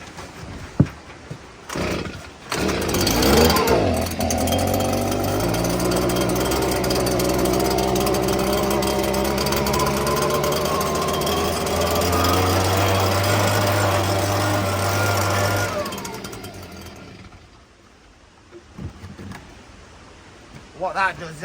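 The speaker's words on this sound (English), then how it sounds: "we can use a blower. So I'll get this fired up." Petrol blower fired up to clear dust from lime mortar joints on a stone wall in Scotland, a loud steady engine drone with shifting pitch running about fifteen seconds before cutting off.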